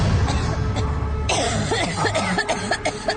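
A person coughs several times in quick, harsh bursts over a low background rumble, fairly close and clear.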